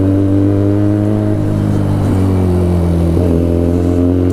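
A Benelli TNT300 motorcycle fitted with an Ixil full-system exhaust idles loud and close, its steady, throaty twin-cylinder drone carrying brief dips and blips in pitch.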